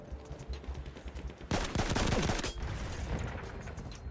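Machine gun fire in a video game: after a quieter opening, a loud, dense burst of rapid shots erupts and continues as a sustained rattling barrage.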